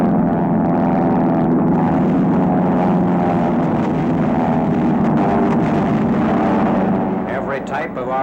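Heavy RAF bomber engines drone in flight over enemy territory during an all-out Allied bombing raid, a loud, steady propeller roar with layered harmonics that holds throughout and wavers slightly near the end.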